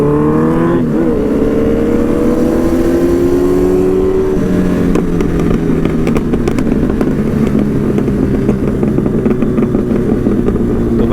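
A loud motorcycle engine fitted with an Arrow aftermarket exhaust revs hard and close, its pitch climbing and dropping, followed by rough crackling backfire pops from the exhaust.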